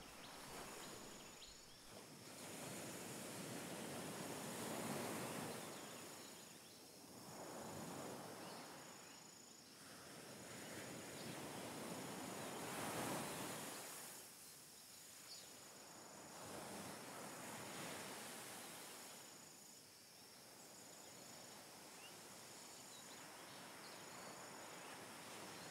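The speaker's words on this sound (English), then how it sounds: "Continuing to welcome the sounds of the jungle and the ocean." Ocean surf with jungle ambience: slow swelling waves wash in and recede every few seconds under a steady bed of chirping crickets and insects, soft and distant, with no voices.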